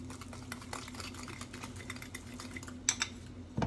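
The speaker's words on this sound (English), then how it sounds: "Whisk this until it's smooth." Whisk scraping and clinking steadily against a pot while crepe batter is beaten smooth, a fast continuous metallic rattle with a low steady hum beneath and a couple of louder knocks near the end.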